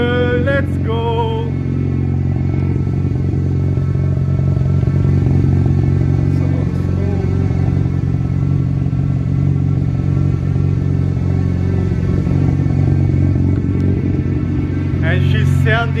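A rebuilt Mazda RX-7 FD rotary engine idles steadily and loud up close for the whole stretch, with a brief rev near the start and end and a few voices talking over it.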